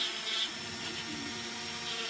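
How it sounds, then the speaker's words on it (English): A Dremel rotary tool with a small drum sander carves wood in a steady, close whine with a rough, rasping grind throughout. "These little drum sanders are awesome."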